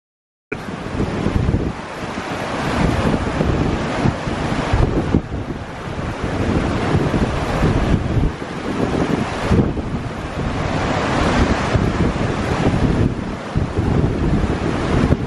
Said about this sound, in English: The wind's popped up.